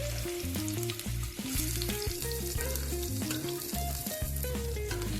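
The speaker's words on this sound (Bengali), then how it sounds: "আলুগুলো লাল লাল করে ভেজে নেব।" Potato pieces frying in oil left over from deep-frying egg and lentil fritters, a steady loud sizzle with no talk, broken by a few stirring and tapping knocks in the pan.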